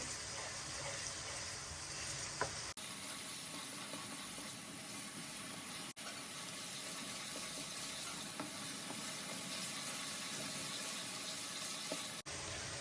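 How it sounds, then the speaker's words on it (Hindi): Garlic ginger paste sautéing with onions in a pan, a steady broadband sizzle that holds evenly throughout with a few faint stirring clicks and brief cuts, fairly quiet and without talk. "2 चम्मच लहसुन अदरक का पेस्ट है, ये भी शामिल कर देंगे। इसे भी थोड़ा सौते कर लेंगे।"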